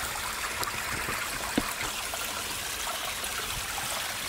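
A river flows steadily with a continuous trickling, babbling wash of water, moderately close and unbroken, with no voices over it.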